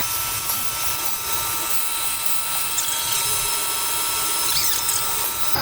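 Tool grinder wheel resharpening the end flutes of a rough cut endmill, giving a steady high-pitched grinding whine with a mechanical rattle underneath, close and continuous.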